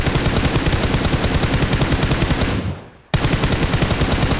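Rapid automatic gunfire from the mobile battle-royale game BGMI (PUBG Mobile), loud and continuous bursts that cut out briefly near the end before resuming at full intensity, with no talk.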